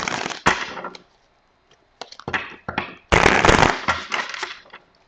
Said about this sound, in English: I want to do two more shuffles.